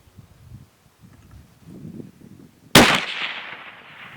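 A single 6.5 Creedmoor rifle shot fired at a Tannerite target outdoors: a sharp, loud crack with a long fading echo tail, breaking a quiet stretch of soft wind and rustling.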